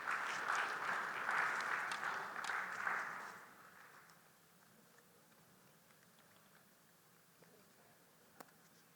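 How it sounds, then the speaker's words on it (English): Audience applause at a business summit ceremony in Ghana, a burst of many hands clapping that fills the first three seconds, then tapers off into a quiet room with a single faint tap near the end. "A round of applause as he comes."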